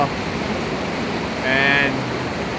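Fast-flowing mountain water, fed from underground and through cracks in the rock near a waterfall trail, rushes as a constant broadband roar close to the microphone, with a faint whistle briefly rising over it.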